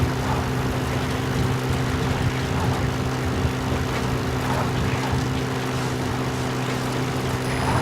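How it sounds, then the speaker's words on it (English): An enemy gunship helicopter in Metal Gear Solid V drones with a steady, loud rotor and engine hum, a constant tonal throb that holds unbroken throughout with no speech. "That's an enemy gunship."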